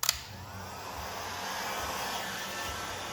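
Heat gun blowing steadily while warming tint film on a Dodge Charger rear tail light, a continuous close airy whoosh with a brief click at the start.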